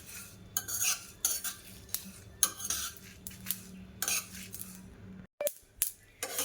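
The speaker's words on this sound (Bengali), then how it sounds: "অল্প আছে অনেকক্ষণ ধরে নাড়ব, বেশি জোরে দিলে মশলাগুলো পুড়ে যাবে।" A spoon scrapes and clinks against a pan while spices for chilli pickle are stirred over low heat, in repeated uneven strokes with brief pauses.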